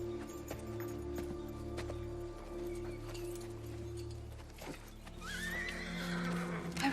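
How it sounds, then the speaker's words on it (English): A horse neighs in a loud, rising whinny near the end, preceded by clip-clop hoofbeats and stamping amid a rumbling ancient Pompeii-era scene, with faint voices in the background. "Harness another horse."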